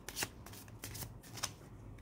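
Tarot cards being shuffled in a spiritual reading, a soft papery riffling with several bright flicks, close and fairly quiet, with no talking.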